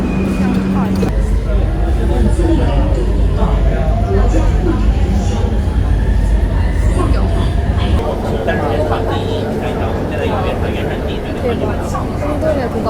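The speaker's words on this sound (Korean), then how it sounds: "지하철이 진짜 시끄러워요." Shanghai subway train running loud and steady inside the carriage, a constant rumbling roar with rattling throughout, with people talking faintly under the din.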